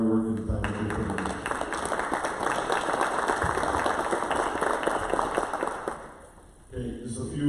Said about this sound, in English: If we could give those individuals a round of applause for their hard work and time that they put in.